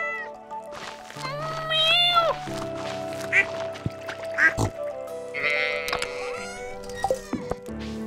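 A cat meows several times in the Stardew Valley video game, clear rising calls over soft game music and sound effects, with someone talking at points.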